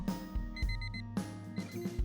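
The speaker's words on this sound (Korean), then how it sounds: "알람이 울렸어요." An alarm clock rings in short, repeated electronic beeps at a steady rhythm, close and moderately quiet, with no voices.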